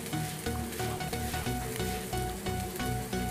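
Whole spices, cinnamon pieces, ginger and garlic fry in oil in a kadai with a loud, continuous sizzle, crackling and spitting close by, with occasional stirring scrapes and no voices.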